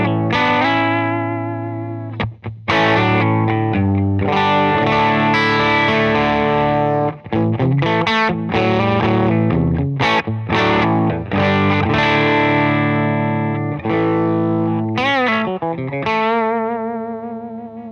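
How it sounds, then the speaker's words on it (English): Loud, heavily fuzzed electric guitar through a Benson Amps temperature-controlled germanium fuzz pedal and Benson Monarch Reverb amp, playing sustained chords and riffs, thick and saturated with buzzing harmonics, with brief pauses between phrases. "The amp and guitar combo sounds like this."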